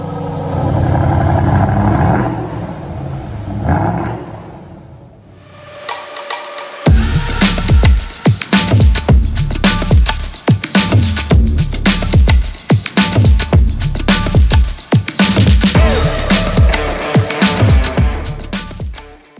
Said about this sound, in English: Right away you can hear the difference in the sound emitted from the titanium exhaust.